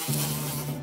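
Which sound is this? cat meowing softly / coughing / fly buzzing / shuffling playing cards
fly buzzing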